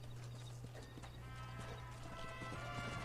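Hooves of a white horse clip-clopping in the Red Dead Redemption video game, a steady walking rhythm of soft knocks over a constant low hum, faint and even throughout.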